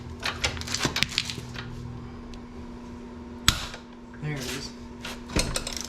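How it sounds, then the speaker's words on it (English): Wrench working on the swingarm-to-frame bolt of a Honda CRF110 dirt bike, 19mm and 17mm sides, heard as scattered close metallic clicks and taps with a sharper clank midway, over a quiet steady workshop hum. "next we're going to take out the swing arm to frame bolt"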